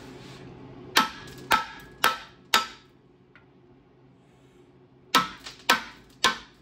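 Pistons and liners being driven out of a 1962 Triumph TR4 engine block, heard as sharp metallic hammer blows: four evenly spaced hits, a pause with faint rattling, then four more close, loud strikes with ringing decay.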